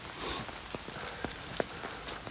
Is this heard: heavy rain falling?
yes